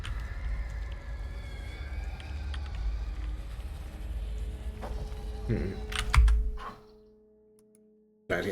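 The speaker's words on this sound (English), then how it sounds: "I know the typing is caught on the mic" Computer keyboard keys clicking in quick, irregular bursts picked up by a streaming microphone during a game session, fairly close, with a brief louder clatter before dropping to near silence.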